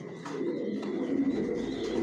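Low, soft cooing from racer pigeons kept in a loft, a steady murmur of several birds close together with occasional faint higher calls.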